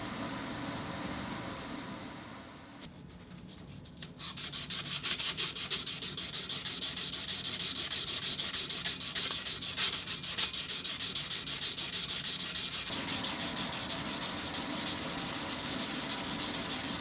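Steady close-up rubbing and hand polishing on the metal of an 1894 Winchester rifle, a continuous abrasive scrubbing that drops off briefly and then resumes, a little louder and unbroken.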